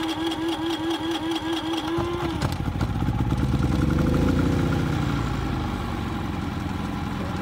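A Harbor Freight Predator 3500 generator starts up, its pull-start rattle giving way to a steady, loud mid-pitched engine drone that settles into an even run.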